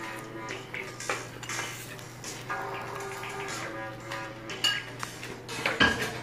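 Dishes and cutlery clatter while carne asada street tacos are plated, with clinks and scrapes of plates and utensils above a steady low kitchen hum and a sharper knock near the end.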